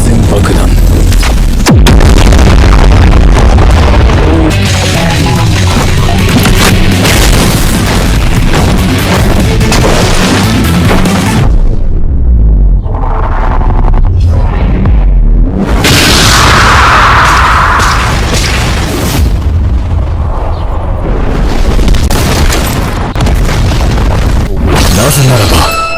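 Loud, dense bomb blasts from a mobile game fill the stretch almost without pause, with booming low-end impacts and crackling bursts, a brief lull near the middle, then more explosions.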